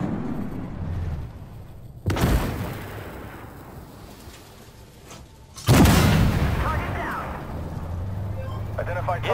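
Two heavy tank cannon shots in the Armored Warfare video game boom sharply a few seconds apart, each followed by a long rumbling decay, over engine noise.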